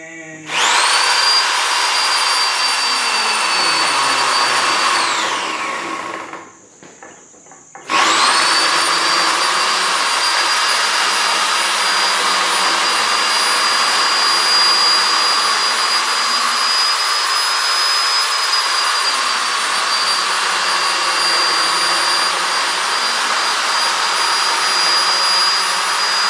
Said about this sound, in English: get some oil on the flex hone. Put hone in the barrel.